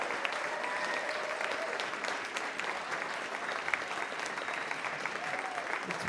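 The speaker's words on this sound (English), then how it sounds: "let's give them a huge round of applause" Steady applause from a crowd at a talent show, a dense even patter of clapping lasting throughout at moderate volume.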